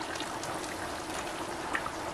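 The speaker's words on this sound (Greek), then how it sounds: "Θα συμπληρώσω λίγο καυτό νερό," Hot water poured from a kettle into a cooking pot of simmering meat gives a steady, close splashing hiss with no clear breaks, moderately loud and unaccompanied by talk.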